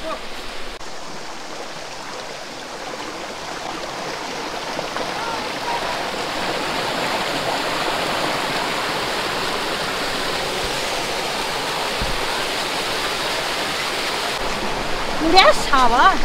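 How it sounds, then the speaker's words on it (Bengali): Water at the top of a Cherrapunji waterfall rushes in a constant broadband roar, steady and close throughout, with a brief handling noise near the end. "আমরা এখন চলে এসেছি ফলসের ঠিক ওপরে, যেখান দিয়ে জলটা বেরোচ্ছে।"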